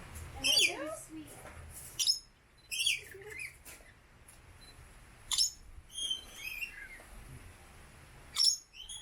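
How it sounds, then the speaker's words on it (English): Birds near a home in St. Thomas give sharp chirps and squeaky calls in short bursts separated by quiet gaps, close by, with a person talking softly between them. "They are beautiful birds."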